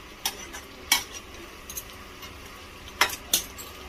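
Spoon stirring yogurt curry in a pan as it heats toward a boil, a few sharp scrapes and clinks spaced irregularly over a faint low background, with no voices.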